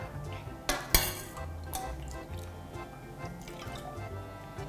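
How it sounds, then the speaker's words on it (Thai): Soup ladled into a hot pot for a Thai jim jum hotpot, with splashing pours, a sharp metallic clink and light clattering of the ladle against the pot, close and fairly loud. "แล้วก็ตักน้ำซุปที่เราทำนะคะใส่ลงไป"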